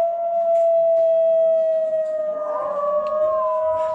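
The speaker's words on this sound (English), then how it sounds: "And then we have the coyote." A coyote howl plays at Kinzua Bridge State Park in Mount Jewett, Pennsylvania: one long, steady, loud wailing note with a slight waver, heard on its own without talk.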